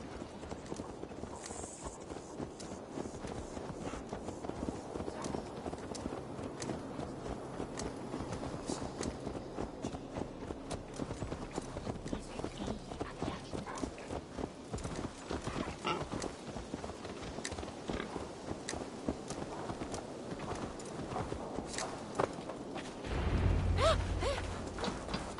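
Steady video-game horse hoofbeats clip-clop in a continuous rhythm, with a brief louder burst near the end, in Assassin's Creed Valhalla.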